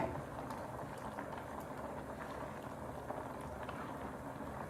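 Turkey tetrazzini sauce simmers in a pan, a faint, steady low bubbling and soft popping that continues evenly without pause.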